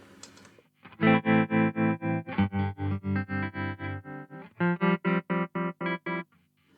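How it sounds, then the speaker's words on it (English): A ZVex Super Seek Trem guitar pedal set to tremolo chops sustained electric guitar chords into a fast, even pulsing throb, loud and close, with a short pause midway and no talk. "so you got to make sure that little switch is set to trem"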